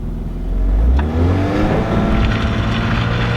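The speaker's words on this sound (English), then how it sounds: "I want to see if this thing can do a burnout with these big old meaty tires on" A Nissan 300ZX on big, meaty tires revs loudly and close, its engine rising in pitch as it attempts a burnout, a single sustained roar that climbs and then holds steady.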